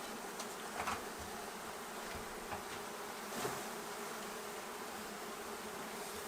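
Honeybees buzz steadily during removal of a hive from inside a house wall, a dense, continuous drone close by with a few louder passes from individual bees and no voices.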